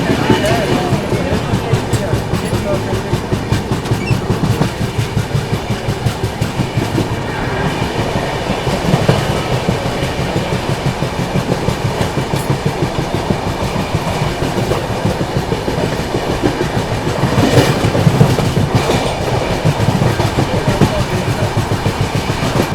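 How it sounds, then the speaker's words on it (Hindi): The Vibhuti Express, train 13047 from Howrah to Prayagraj Rambagh, runs at speed after leaving Panagarh station. Its carriage rumble and steady clickety-clack are loud and continuous from on board, with faint background chatter. "चलिए, निकल गई ट्रेन अपनी पानागढ़ रेलवे स्टेशन से।"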